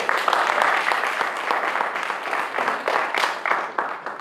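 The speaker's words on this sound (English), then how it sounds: "Give her a round of applause." Close, loud clapping from a conference audience honoring a presenter at a special education event, a steady, dense round that continues for the full stretch.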